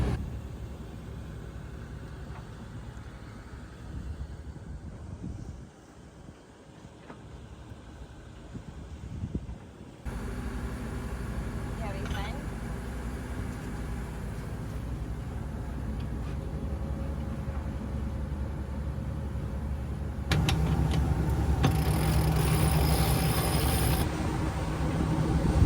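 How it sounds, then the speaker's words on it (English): A boat's generator and engine run together on calm water with almost no wind, giving a steady, loud mechanical drone and rumble throughout that grows louder and brighter near the end. "It's very loud out here because we have the generator running and the engine, since there's very, very little wind."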